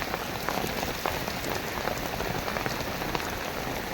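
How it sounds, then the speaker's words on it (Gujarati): Steady rain pours down outdoors during the monsoon, a dense continuous hiss of drops striking surfaces with scattered louder splats, close and even throughout with no voices. "તમને દેખાતું હોય વરસાદ ચાલુ જ છે"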